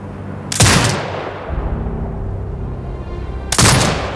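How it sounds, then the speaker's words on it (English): A turret fires in the video game Sniper Ghost Warrior Contracts 2: two heavy booming shots about three seconds apart, each with a sharp crack and a rumbling tail, against a low ambient hum. "Exit binocular mode and command the turret to fire."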